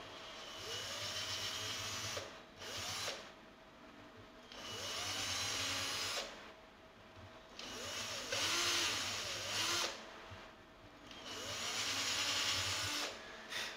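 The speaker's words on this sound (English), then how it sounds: "So I'm going to very carefully just drill those out." A power drill whirs in repeated bursts of several seconds each, drilling out holes in a cookie tin ukulele, with short pauses between, close and fairly loud.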